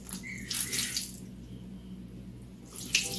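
Tap water runs steadily while hair dye is rinsed out, a close splashing flow that swells and fades, with no talking.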